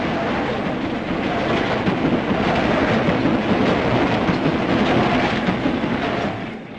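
A London Underground train rumbles past on the track, a loud, dense roar with faint rhythmic clatter that holds steady for several seconds before easing away at the end; no voices.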